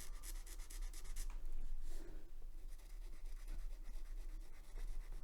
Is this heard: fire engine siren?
no